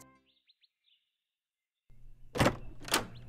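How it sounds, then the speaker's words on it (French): Two loud, sharp knocks on a wooden door, spaced about half a second apart, following a few faint high chirps in an otherwise quiet room. "on frappa à sa porte"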